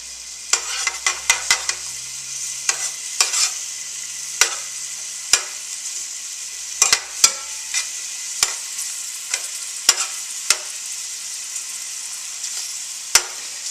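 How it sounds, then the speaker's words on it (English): Onions sautéing in a pan for Greek burgers, a steady sizzle running throughout with repeated sharp clicks and scrapes of a utensil stirring against the pan, close and fairly loud. "I put the onions in first because the onions should cook a little bit"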